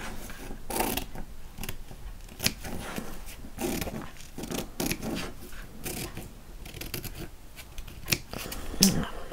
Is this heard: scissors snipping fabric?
yes